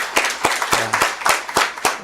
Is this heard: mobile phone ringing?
no